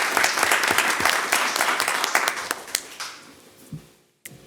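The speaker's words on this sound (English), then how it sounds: "So let's give them a round of applause" Applause at a Pasadena ISD board of trustees meeting for the training staff: brisk, crisp clapping that thins to a few scattered claps and dies away, followed by a brief quiet moment.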